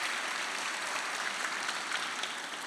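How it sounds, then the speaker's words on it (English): An audience at a social business talk applauds, a dense, even patter of clapping held steadily for a few seconds at a moderate distance. "Let's give big applause for the young people here."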